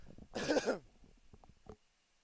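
A single sharp cough from a commentator at a live amateur townball baseball game, close and fairly loud, followed by faint low murmuring.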